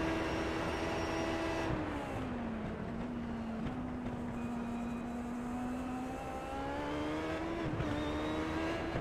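An onboard Classic IndyCar race car engine at Sebring in iRacing drones steadily and close, its pitch dipping and climbing through gear changes with no voices.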